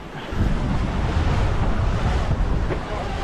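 Waves and strong wind rush steadily around a sailboat heeling on a Mediterranean crossing toward Leucate, making a loud, continuous wash of surf and wind buffeting the microphone with no talk.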